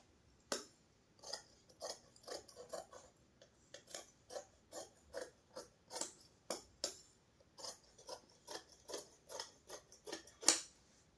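Scissors snip through blouse fabric for a size-30 katori blouse in a steady series of crisp close cuts, roughly two per second with small gaps, quiet and without talk.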